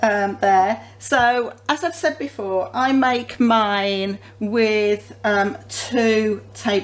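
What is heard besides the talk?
None of the usual background noises is heard.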